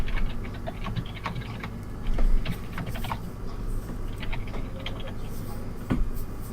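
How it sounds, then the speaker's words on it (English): Keys on a computer keyboard pressed at random during a Star Wars: Age of Rebellion tabletop session, a scattered run of light clicks and taps under a steady low room hum, fairly quiet and close. "I'll just press down the keyboard randomly"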